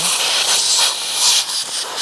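Compressed air blasts through a Husqvarna/Redmax/Poulan hedge trimmer in a loud, close, bright hiss that pulses in short surges without any voices.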